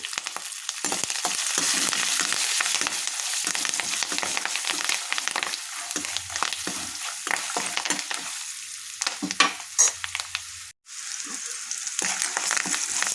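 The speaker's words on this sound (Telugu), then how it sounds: "పసుపు కరివేపాకు వేసుకొని ఫ్రై చేసుకోవాలి" Turmeric, green chillies and curry leaves frying in a pan, a loud, crackling sizzle with frequent sharp pops and spatters, close up, briefly cut to a short pause before resuming.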